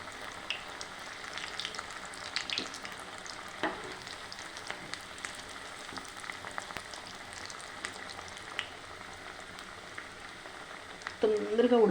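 Corn vadas, made from batter with whole corn kernels, frying in hot oil: a faint, steady sizzle and bubbling throughout, with occasional clinks and stirring sounds and a louder burst near the end.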